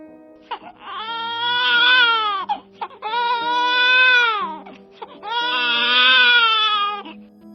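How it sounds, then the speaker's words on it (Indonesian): An 11-month-old baby cries without stopping: three long, loud wailing bursts with short gasping breaths between them, close by and with no talk. "Suara bayi yang baru berumur 11 bulan itu menangis tiada henti."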